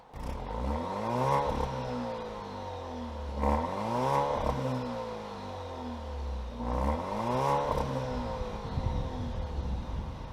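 A 2020 Alfa Romeo Stelvio Ti Sport Carbon engine revs up and falls back three times in slow, rising and dropping sweeps, with a throaty exhaust note close by.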